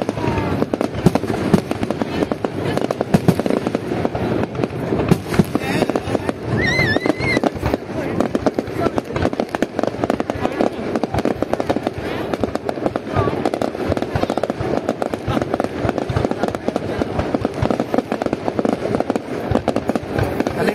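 Fireworks set off for the Tet new year holiday, a dense, continuous barrage of crackling bursts and pops, loud and close throughout with voices faintly mixed into the din.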